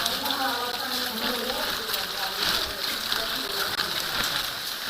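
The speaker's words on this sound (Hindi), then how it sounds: "ठंडी चढ़ाई और बराबर बारिश, ये दोनों चीज़ें हमको बराबर देखने को मिल रही हैं।" Rain falls steadily during a climb on Brahmagiri mountain, a constant hiss of drops under a muffled wash of broadband noise, with no distinct speech.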